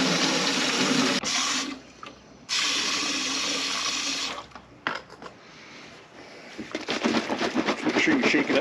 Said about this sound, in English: put about 1 gallon of water in it